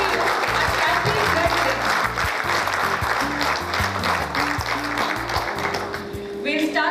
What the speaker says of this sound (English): Put your hands together, give yourself a huge round of applause